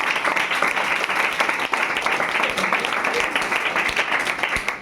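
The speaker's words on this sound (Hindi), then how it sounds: "ताली बजाने के लिए" Students in a coaching classroom clap steadily and densely for the whole stretch, a continuous patter of many hands with no pauses.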